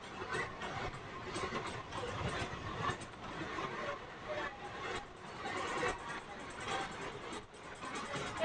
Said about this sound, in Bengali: আমাদের ট্রেন এখন এসে পৌঁছালো 3 পাহাড় জংশন।